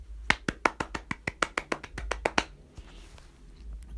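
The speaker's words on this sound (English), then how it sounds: "First of all, round of applause for Sundowns." A small group claps hands in sharp, evenly spaced claps, about a dozen in quick rhythm, close and fairly quiet, before stopping into near silence.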